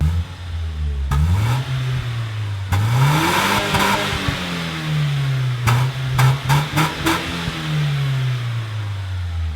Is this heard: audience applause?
no